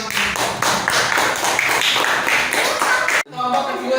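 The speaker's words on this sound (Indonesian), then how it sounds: "Tepuk tangan untuk" A classroom group claps for the second presenting group, a few seconds of close, brisk applause from several people that cuts off abruptly, followed by quieter room sound.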